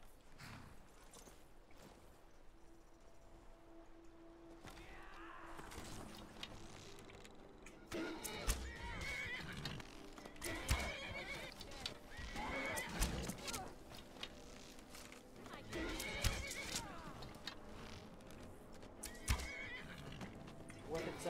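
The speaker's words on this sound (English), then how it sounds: "What exactly is my horse doing?" A horse whinnies amid steady hoof clatter and background game noise in Skyrim, fairly faint and continuous, with a voice briefly in the mix.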